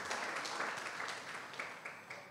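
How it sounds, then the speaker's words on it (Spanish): A church congregation claps together, a soft, fairly distant wash of applause with a few sharper individual claps standing out. "dale un fuerte aplauso a Dios"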